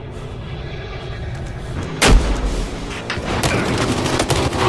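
Rocket explosions and heavy gunfire from the video game Battlefield Hardline boom over dense, continuous battle noise, with one sharp loud blast standing out partway through.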